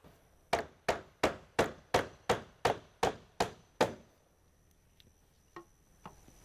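Hammer driving nails through 1x trim over the top course of shed siding: ten sharp, evenly spaced blows in quick rhythm, close and loud, followed by a pause and a couple of faint knocks.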